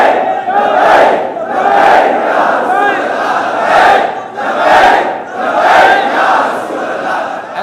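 Large crowd at a religious rally shouting slogans in unison, loud rhythmic waves of chanting voices rising and falling about once a second, a dense roar filling the whole stretch without a lone speaker.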